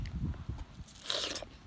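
Fresh strawberries picked straight from a garden in Norway are bitten and chewed up close, with a few soft, moist crunches and smacking mouth sounds in a short burst.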